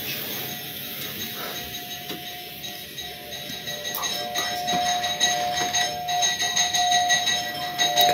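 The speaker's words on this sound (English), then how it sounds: "It was 2 in the morning and their doorbell started ringing" A doorbell rings repeatedly at 2 in the morning with a steady tone, growing louder and more insistent, with faint voices underneath.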